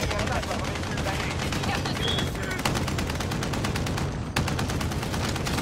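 Sustained rapid fire from a mounted turret in a multiplayer battle-royale game, a dense loud stream of rattling shots running almost without pause, with chatter mixed underneath.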